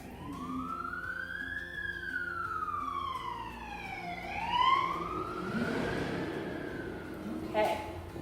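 A passing fire engine siren wails and sweeps up and down in long swoops, loud and steady, with a brief horn-like blip near the end and quiet talk beneath it.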